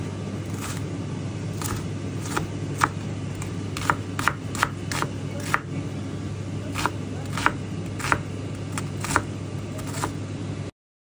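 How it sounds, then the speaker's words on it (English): Knife chopping onions on a board while cooking ogbono soup: a dozen or so sharp, irregular cuts spaced through the clip over a steady low hum, with no talking. "So I'm cutting onions."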